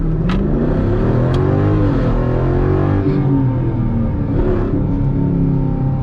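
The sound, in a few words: 2020 Jeep Grand Cherokee SRT aftermarket exhaust revving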